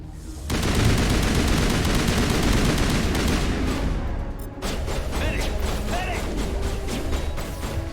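Enemy gunfire in Mass Effect Legendary Edition booms in a heavy, continuous barrage, then gives way to sharper repeated shots with whooshing effects, loud and close throughout.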